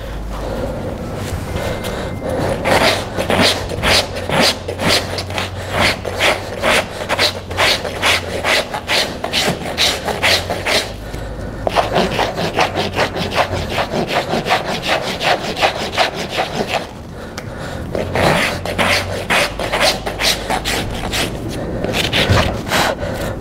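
A farrier rasps a horse's hoof, trimming the heel and removing flare, with long rhythmic back-and-forth rasping strokes, loud and close, in bursts separated by brief pauses.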